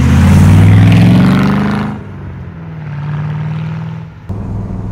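A loud 4.5-litre V8 engine of a 1966 Iso Grifo 300 GL roars close by, then eases off to a lower rumble before picking up again at the end.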